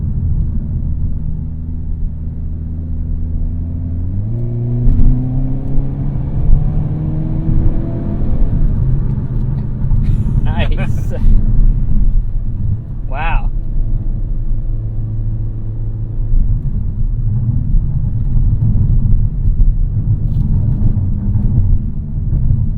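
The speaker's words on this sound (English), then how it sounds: "Knock this into our custom drive mode and get the most engine noise inside the cabin" The 2-liter turbocharged engine of a 2022 Hyundai Kona N rumbles loudly from inside the cabin, rising in pitch as it revs up, then settles into a steady drone; brief exclamations are heard.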